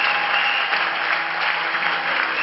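A church congregation applauds and acclaims in worship, a continuous dense wash of clapping and crowd noise that stays steady and loud throughout.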